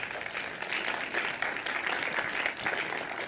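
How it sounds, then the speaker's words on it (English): A conference audience applauds the speaker's parents, who are seated in the room. The applause is steady and moderately quiet, with even clapping sustained throughout and no talk over it. "I think we should all give a round of applause for mine that are sitting over there"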